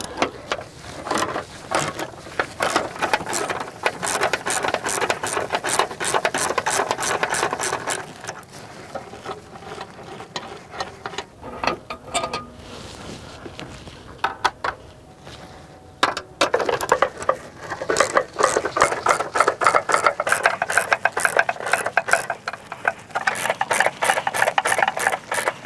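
Removing the battery hold-down bracket on a 2019 Chevy Silverado, a fast ratcheting wrench clicking in long rapid bursts, pausing briefly mid-way before resuming, close and loud.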